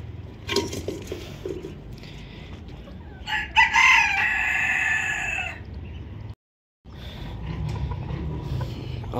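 Bantam chickens in a mini zoo cluck and crow close by, with one loud crowing call in the middle, brief silence later, and steady farmyard background noise throughout.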